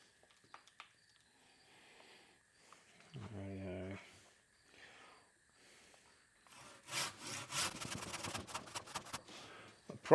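A hand saw cuts through a branch of a large Melaleuca bonsai in quick, rasping back-and-forth strokes, close and steady for several seconds, after a brief voice and some quiet handling.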